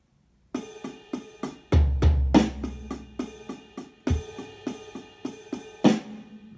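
An Afro-Cuban nanaigo groove played on a drum kit, with a low-tuned snare and a low tom under a busy cymbal pattern. The strokes are crisp, close and evenly spaced, and a few louder accents hit deeper.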